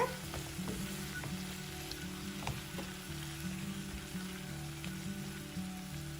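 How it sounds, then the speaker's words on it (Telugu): Eggplant pieces frying with chili powder in a pan give off a steady, even sizzle that continues unbroken with no voices. "ఈ కారంతో వంకాయ కొద్దిగా వేగాక"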